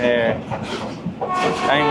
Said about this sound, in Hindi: ZCU जो है वो रावल एक्सप्रेस को दौड़ा के ले जा रहा है। ये हम पास थ्रू कर रहे हैं जी लाला मूसा रेलवे स्टेशन।